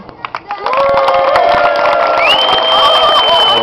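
A crowd at a seal show cheers, whoops and claps to urge on a seal, starting with a few scattered claps and then swelling into a loud, sustained roar with high shouts on top.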